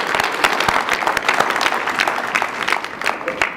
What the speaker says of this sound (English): Please applaud for our school, junior high school.